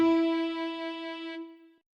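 Guitar, piano and violin sound the same pitch together, a single clear tone with a sharp attack that holds steadily, thins out and stops after under two seconds, with no voices.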